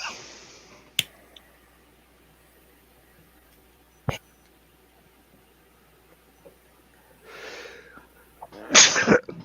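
A loud, sharp sneeze bursts out near the end, preceded by a quick inhale, after a stretch of near quiet broken only by a couple of faint clicks and a breath.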